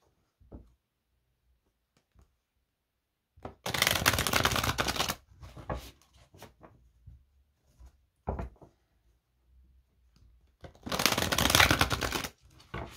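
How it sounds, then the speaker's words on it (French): Angel tarot cards shuffled in two dense riffling bursts separated by a quiet stretch, with a few light taps and card slides in between, close and fairly loud. "On va prendre une carte du tarot des anges."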